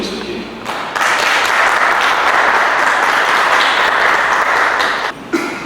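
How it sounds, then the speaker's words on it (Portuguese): An audience at a municipal rights councils meeting in Cascavel applauds Hudson, the social assistance secretary, with steady, loud clapping after a brief quiet start, ending abruptly near the close. "Vamos aplaudir o Hudson aqui"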